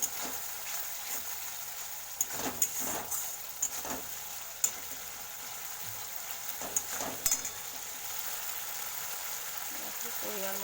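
Spice paste for a fish curry fries steadily in oil, a soft continuous sizzle with scattered sharp stirring scrapes and clicks throughout.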